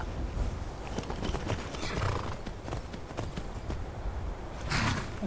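Horse hooves clip-clop in the modded Skyrim game, a steady close run of hoofbeats with a brief snort or whinny near the end.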